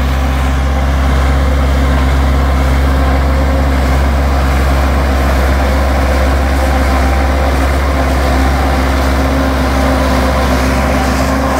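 A Massey Ferguson 283 tractor runs a silage harvester chopping corn silage, a loud, steady low engine drone with a constant hum that holds unbroken without pause.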